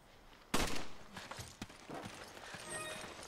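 Gunfire in Resident Evil 5, opening with one sharp loud shot followed by several quicker, fainter cracks and scattered impacts, all without speech.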